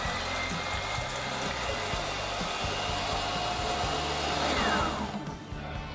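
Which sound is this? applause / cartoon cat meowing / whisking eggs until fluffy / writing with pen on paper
whisking eggs until fluffy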